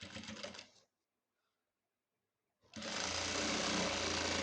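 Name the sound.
sewing machine stitching blouse fabric edge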